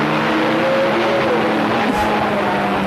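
A Toyota Celica race car built by Dan Gurney's All-American Racers roars loudly at close range on a track, its engine note steady and sustained with a brief change near the end.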